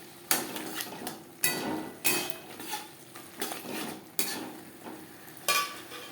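Carrot and capsicum are stir-fried with chicken for street-style chow mein, heard as a sizzling pan with about six sharp, rhythmic scraping strokes of a spatula against metal, close and clear.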